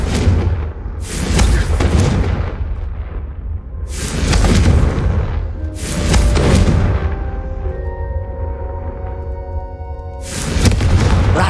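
Repeated Confringo spell explosions in Hogwarts Legacy, four loud booming blasts spaced a few seconds apart, each with a broad rumbling decay, over a tonal humming background.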